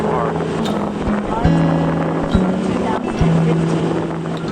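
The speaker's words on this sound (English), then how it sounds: "We are motoring to Dick's cabin in Hope Creek on Twin Lakes" A motorboat cruising on Twin Lakes in Lake Clark National Park, Alaska: a steady close engine drone with pitch steps and thumps as the hull meets chop, mixed with wind buffeting the microphone.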